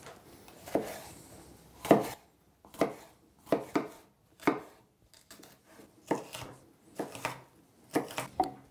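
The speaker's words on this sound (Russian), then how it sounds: "Болгарский перец нарезаем кубиком." A knife dices bell pepper on a cutting board, with about a dozen crisp, close chops in an uneven rhythm and short quiet gaps between them, no voices.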